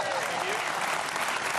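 A studio audience breaks into loud, dense applause on a V8 Supercars television talk show, sustained clapping that fills the whole moment without pause.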